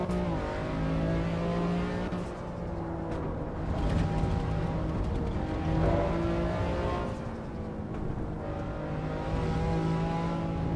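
A Volvo engine in a driving simulator game revving and accelerating, rising and falling in pitch through several gear-like surges, loud and steady throughout.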